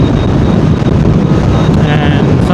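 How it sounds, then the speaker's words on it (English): Steady broadband wind roar buffeting a rider on a Honda CBR650R inline-four superbike, constant and loud close to the microphone throughout, with low rumble underneath and no clear talk. "Pretty cool climate, but quite windy. I can feel the bike cutting through the wind."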